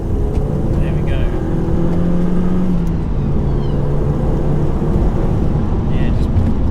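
An Audi TT cruising smoothly in third gear toward a tunnel, with a steady, fairly quiet engine hum and road rumble from inside the cabin under constant wind and tyre noise.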